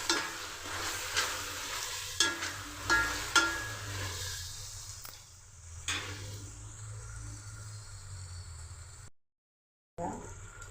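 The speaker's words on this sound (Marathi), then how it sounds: "आता टमाटर टाकून आपण थोडी मिक्स करून घेऊया." Tomatoes are stirred into a red spice masala frying in a pan for a Bhogi mixed-vegetable dish. Several distinct scraping stirs sound over a steady close sizzle, which then settles into quieter frying with a short silent break.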